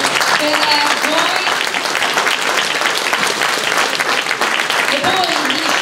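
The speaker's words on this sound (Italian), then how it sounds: "comincerei dalla squadra dello sci alpino, un super applauso" A hall full of people applauds the alpine ski team at a season presentation, loud continuous clapping throughout with scattered cheers and voices rising over it.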